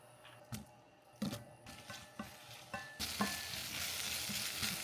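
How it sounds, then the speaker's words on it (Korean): Zucchini is stir-fried in a preheated pan in a home kitchen: a utensil knocks and scrapes against the pan several times, then a loud, steady sizzle takes over, heard close with no talking. "여기다가 약 호박을 볶을 거예요"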